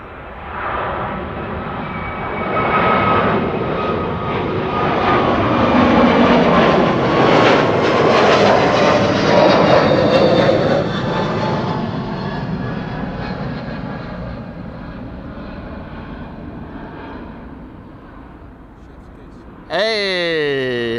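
A JetBlue jet departing Amsterdam Schiphol for Boston roars past, swelling to a loud broad rumble mid-clip and slowly fading, with a person talking faintly under it and a brief sharp noise at the very end.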